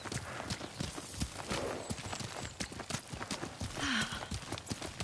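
Kage, a horse in Ghost of Tsushima, gallops with steady rhythmic hoofbeats up close, and a short whinny cuts through near the end.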